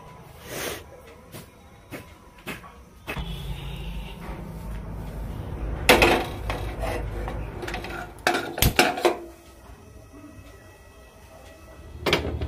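A pot and utensils handled in a kitchen while milk is heated: scattered knocks, clanks and scraping rubs, a few sharp clatters bunched in the middle, over a low steady background.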